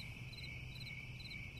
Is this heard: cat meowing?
no